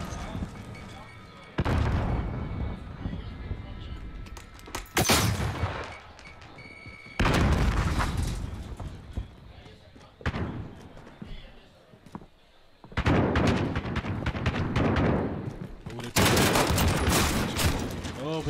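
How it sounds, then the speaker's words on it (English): Shotgun fire in a Call of Duty 2v2 Gunfight tournament match, several loud bursts of blasts in separate clusters, with talk running between and under the shots. "Everybody's just firing off shotgun rounds."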